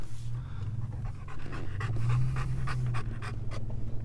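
A goat guard dog pants rapidly and steadily up close, its breaths loud and continuous with no talking.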